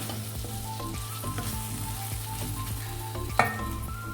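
Brinjal and onion frying in a pan, a steady close sizzle with scattered crackles and a spatula scraping and stirring, plus one brief sharper clatter near the end, with no talking.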